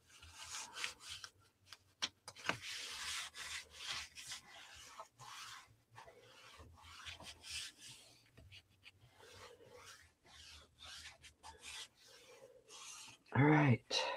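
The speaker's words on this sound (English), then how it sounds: "Give her a good burnish." Scored paper on a scrapbook page is burnished, giving close, dry rubbing strokes in irregular short passes, with a brief voice near the end.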